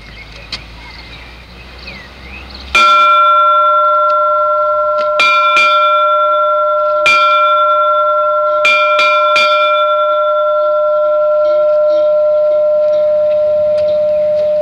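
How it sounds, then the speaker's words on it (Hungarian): A memorial bell at a dedication ceremony rings out in a series of loud, clear strikes, each leaving a long sustained ringing tone, after a quiet opening with soft background murmur. "ilyen szemlélettel, ilyen gondolattal hallgassuk meg a harang szavát"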